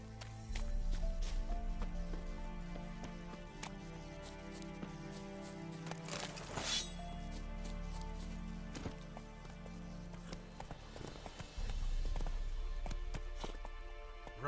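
Horse galloping in The Witcher 3, steady rapid hoofbeats with continuous game music and ambience, loud and sustained throughout, with a brief louder burst midway.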